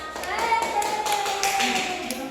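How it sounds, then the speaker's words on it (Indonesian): Brief clapping from a school class for a student after a presentation, fairly soft and short, with children's voices and a sustained tone running underneath. "tepuk tangan untuk Elsa"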